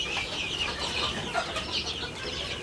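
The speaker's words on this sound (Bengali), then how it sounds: "125টার মতো মুরগি আছে এখানে আমাদের টোটাল।" Around 125 young broiler chickens cluck and chirp continuously in a farm shed, a dense, even chatter of many birds with no voices over it.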